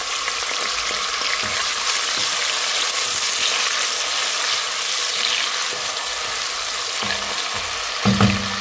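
Chopped onions dropped into hot oil with browned garlic, cooking for a dried shol fish dish, roar in a loud continuous close sizzle that stays steady throughout, with a few faint clanks of a utensil near the end.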